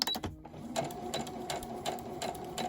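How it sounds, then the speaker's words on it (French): A sewing machine stitches slowly along a line on a wax-print cushion cover with piping, giving a quiet run of separate mechanical clicks and whirs at an uneven, unhurried rhythm. "vous allez coudre vraiment à ras de la ligne"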